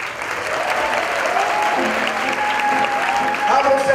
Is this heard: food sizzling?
no